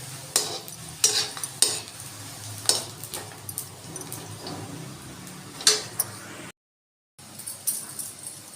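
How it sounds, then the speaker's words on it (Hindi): Food frying in hot oil in a kadhai gives a low, faint sizzle under sharp metal clinks and scrapes of a utensil against the pan, with a brief total dropout near the end. "और मैंने कढ़ाई में तेल चढ़ा दिया उधर। अब इन्हें फ्राई करती हूँ।"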